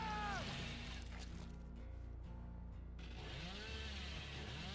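Chainsaw revving in the Dead by Daylight video game: a loud, continuous motor drone whose pitch sweeps up and down with each rev, easing briefly midway before surging again.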